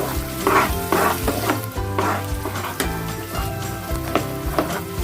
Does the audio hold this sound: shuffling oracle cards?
no